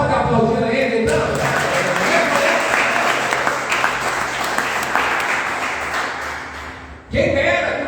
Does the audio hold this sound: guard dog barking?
no